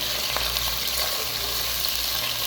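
Onions sizzle and fry steadily in hot cooking oil in a pan for okra masala, a loud, continuous crackling hiss with faint stirring.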